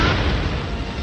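A spaceship explodes in a cartoon, a dense, rumbling blast that stays loud and roaring for the full second with no voices.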